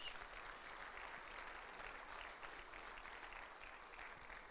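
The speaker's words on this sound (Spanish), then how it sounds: "Démosle un fuerte aplauso al Señor." Congregation at a church Bible teaching applauding steadily, a faint, even wash of clapping heard from a distance, continuous for several seconds with no voices over it.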